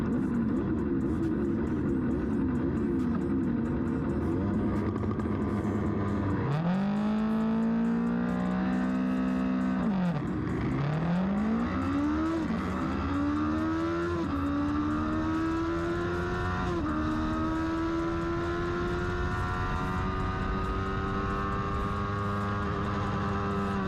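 Race car launching at a race start at NOLA, engine held at a steady high drone, then surging up through rapid gear shifts with rising, stepping pitch, loud onboard sound with no talk.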